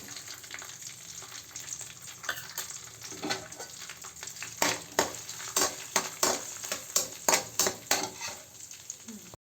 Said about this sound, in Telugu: కరివేపాకు వేగిన తర్వాత ఇది కచ్చా బచ్చాగా దంచుకున్న వెల్లుల్లి వేసుకోవాలి